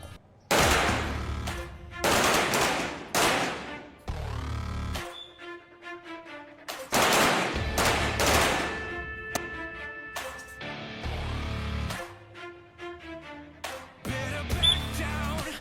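Police officers firing guns at a shooting range in Senegal produce loud, sharp shots, both single reports and rapid automatic bursts, with brief pauses between volleys and no talking.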